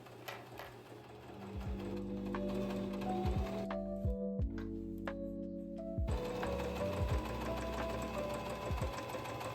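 A sewing machine stitches a vest seam in short bursts of rapid mechanical whirring, with a brief pause in the middle before it resumes; close and fairly quiet, with no voices.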